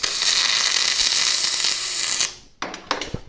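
A small stitch weld laid on steel, a steady loud crackling hiss for about two seconds that cuts off abruptly, followed by a few sharp metallic taps and clicks.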